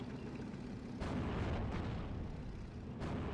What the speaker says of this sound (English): Hurricane Mark IV with the rockets actually hit the top side onto the Panzer IV-J and the Stug 3